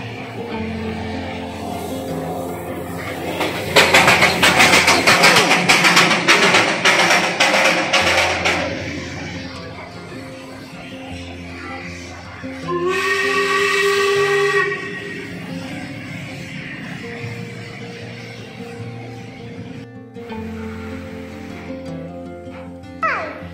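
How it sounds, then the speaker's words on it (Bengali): Darjeeling toy train arriving, its small engine chugging with a loud hissing burst of steam and a clear, sustained steam whistle, amid ambient street noise and occasional voices. "এটা একটা ছোট টয় ট্রেন।"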